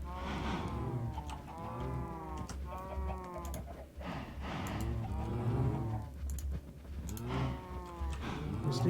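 Cows moo repeatedly in the video game Minecraft, several drawn-out nearby lows one after another over a steady low background hum, with no talk.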